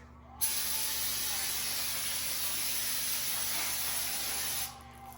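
A steady, close hiss of spray lasts about four seconds as a brake caliper bracket on a 2012–2020 Ford Focus is cleaned, starting and stopping abruptly.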